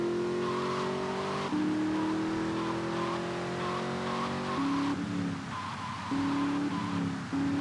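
A car drives in GTA 3, its engine revving and shifting up through the gears at moderate volume, with a brief tire skid partway through.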